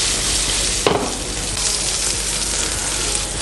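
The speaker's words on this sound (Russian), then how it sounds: "перемешиваем до золотистой корочки" Food sizzles steadily in a frying pan, with a sharp scrape of stirring near the start, and the frying hiss stays loud and close throughout.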